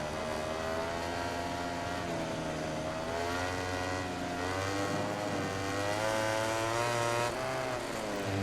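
A Ducati motorcycle engine races through corners in MotoGP 18, a loud, continuous high-revving whine whose pitch climbs and dips with throttle and gear changes, heard alone without talk.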